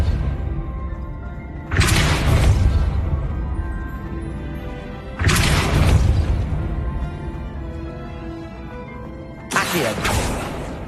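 Spell blasts from Hogwarts Legacy crash out in three loud broadband bursts spaced a few seconds apart, each decaying under a steady bed of game sound, with a voice calling out spell names.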